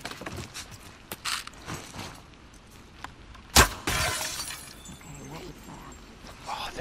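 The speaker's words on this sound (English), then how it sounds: "Oh, there was glass there." Glass breaks with a sharp, loud crash during gameplay in The Last of Us Part II, a single burst amid scattered clicks and movement noises, with lingering debris rattle afterward.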